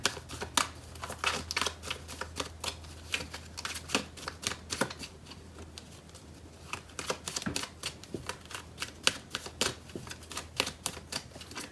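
Quiet, rapid riffling and flicking of tarot cards being shuffled, in irregular bursts of crisp clicks with a brief lull midway, close and soft.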